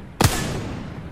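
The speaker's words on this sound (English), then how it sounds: "Oh, that's a grenade." A grenade goes off in the video game Apex Legends: one sharp, loud blast with a brief low thump, then a fading rumble and a noisy tail.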